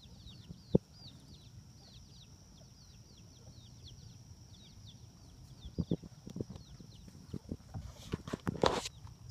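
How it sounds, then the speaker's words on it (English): Baby chicks peep in a steady run of high, rapid cheeps while adult chickens cluck softly nearby in a chicken house, with scattered scuffing and knocks growing busier toward the end. "I always love the sound of baby chicks."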